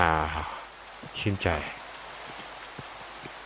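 Steady rain patters softly in the Minecraft video game, a faint continuous hiss that runs through the whole stretch while someone talks briefly near the start.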